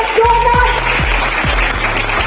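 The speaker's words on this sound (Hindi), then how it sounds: "एक बार जोरदार तालियां, जोरदार तालियां" Loud applause from a business seminar audience in India, a broad steady roar of clapping underpinned by a regular low thumping beat from music playing in the hall.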